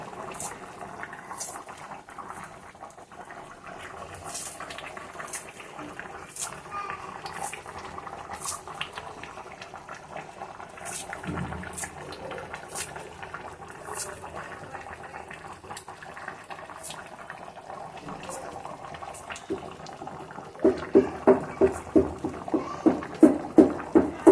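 Fish pulusu, a tangy fish curry, bubbling in a pot, a soft steady simmer with bursts of bubbling that grow louder and more distinct toward the end.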